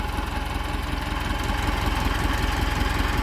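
Large Ford farm tractor engine running steadily while clearing ground, a loud continuous low rumble with an even rapid knocking pulse, close by and without talk.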